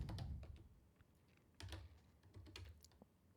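Typing a command on a computer keyboard during a network switch configuration session, a quick close run of light key clicks with a brief pause midway, no talking.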